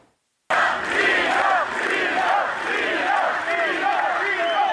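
A concert crowd at a show at the Live Arena in Agrigento cheers and sings together: a loud, continuous roar of many voices with rising and falling chanted tones, starting abruptly after a brief silence.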